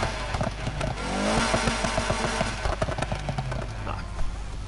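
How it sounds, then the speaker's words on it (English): A car engine revs repeatedly, rising and falling in pitch with a rough, loud exhaust note and no talking. From the video game Need for Speed Heat. "And now you can rev the engine as well."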